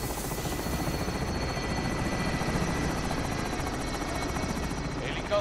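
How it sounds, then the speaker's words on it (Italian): A helicopter in the Call of Duty video game, its rotor thumping in a fast, steady, loud chop that fills the whole stretch without a break, with no voices over it. "Elicottero in posizione"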